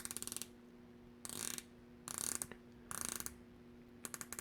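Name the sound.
watch dive bezel ratcheting clicks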